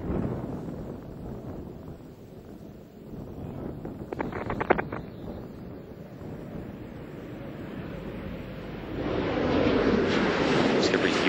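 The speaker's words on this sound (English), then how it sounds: "Space Shuttle Discovery now on final approach to the Kennedy Space Center." Space Shuttle Discovery gliding on final approach to landing at Kennedy Space Center, a low rushing wind-like roar heard from a distance that swells louder toward the end.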